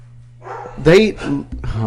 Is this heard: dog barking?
yes